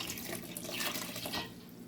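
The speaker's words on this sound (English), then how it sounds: "I'm adding water to half of this pot." Water runs steadily from a tap into a pot, a continuous splashing gush close by with no voices.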